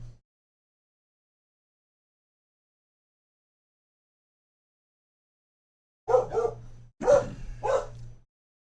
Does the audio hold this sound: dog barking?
yes